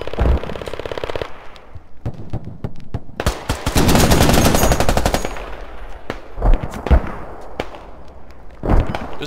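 Rapid machine-gun bursts and sustained automatic fire in a military shooter game set in Al Basrah with a HMMWV, loud and close, then thinning to scattered single shots and thuds.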